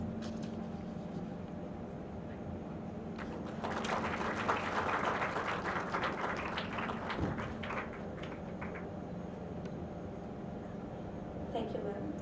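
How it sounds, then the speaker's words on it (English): Audience applause at an HR conclave for an honoree, a broad wash of clapping swelling in the middle and fading back under a steady room hum, with a voice speaking over parts of it. "Let's give a big round of applause for Sundeep Singh sir."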